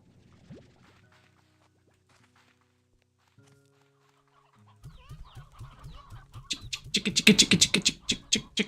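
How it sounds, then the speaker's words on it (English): Chickens cluck in a farm setting, quiet at first, then a busy, loud stretch of clucking and calls builds up with footsteps in the second half. "Chicken."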